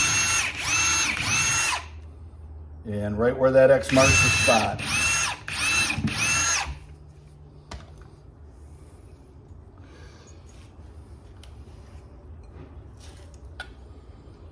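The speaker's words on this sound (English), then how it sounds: "So I'm gonna use a smaller bit and I'm just gonna pre-drill right there." A power drill with a small bit pre-drills a hole in a garage, whirring in several short bursts, loud and close, with brief pauses between, then a speaking voice over quiet room tone.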